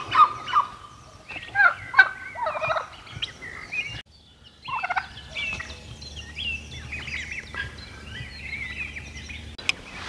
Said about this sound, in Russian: Индюков уже сегодня два раза с погреба сгоняли.